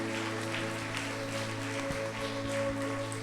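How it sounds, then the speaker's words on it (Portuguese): A church congregation claps in praise at the close of a prayer, a dense and even applause over sustained organ-like keyboard tones. "Quem entende essa palavra, aplauda Jesus nesse instante"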